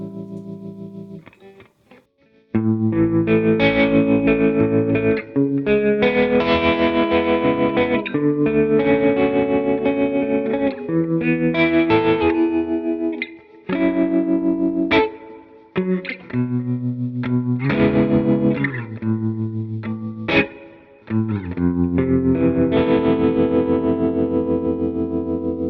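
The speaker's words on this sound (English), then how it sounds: "Oh, it's a tremolo!" Electric guitar through a blues amp-modeling preset with chorus, reverb and pulsing tremolo, played as sustained chords and melodic phrases, loud and continuous with a few brief pauses.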